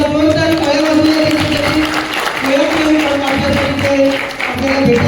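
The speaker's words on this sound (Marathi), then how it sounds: "आपण सर्वांनी एकदा जोरदार टाळ्या वाजवल्या" Sustained applause from an audience greeting Maharashtra's tribal development minister at a state-level tribal arts competition in Nagpur, steady and fairly loud throughout, with a sustained tone or music running beneath it.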